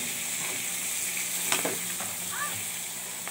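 Shrimp frying in a pan of butter and garlic crackle in a continuous close sizzle, with a few spoon scrapes and stirring knocks and a brief faint voice in the background.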